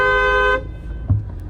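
A loud, sustained car horn blast that cuts off abruptly, leaving low road rumble and a brief thump.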